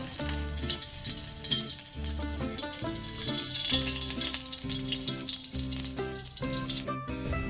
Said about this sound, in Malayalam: ഇതിലേക്ക് ആവശ്യത്തിന് വേണ്ട വെളിച്ചെണ്ണ ഒഴിച്ചു കൊടുക്കാം